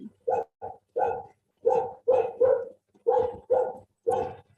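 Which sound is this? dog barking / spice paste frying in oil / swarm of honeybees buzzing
dog barking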